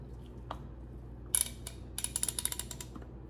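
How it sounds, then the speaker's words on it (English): A bar clamp ratchets tight on a glued lower axle assembly for a full-scale Wall-E track drive: a single sharp click, then a quick run of light mechanical clicks, close up in a quiet workshop. "I have a bar clamp ready to go, so I want to try and clamp this all together."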